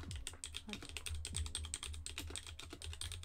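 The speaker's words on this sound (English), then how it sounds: "Hopefully you don't mind the typing keyboard sound." Steady, rapid typing on a computer keyboard during a casual live-streamed chat, with dense clattering keystrokes that run continuously and sit close to the microphone, with no speech.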